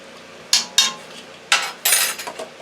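A spoon clinks against a cabbage soup pot while heaping tablespoons of chopped garlic go in, with several sharp metallic taps and scrapes close by.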